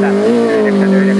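Porsche 911 rally car on a rally sprint stage near Suonenjoki, its engine revving in a loud, steady snarl with a slight pitch rise, heard close under a commentator's voice.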